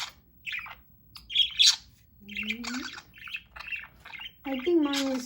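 A pet budgie chirps and lets out sharp squawks in short, close bursts separated by brief pauses, with some calls rising into quick warbling trills.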